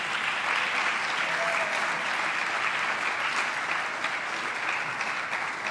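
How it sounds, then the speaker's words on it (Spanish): Steady, dense applause from a church congregation at a Spanish-language sermon, sustained and fairly loud throughout with no break, heard alone. "Dale un aplauso al Rey."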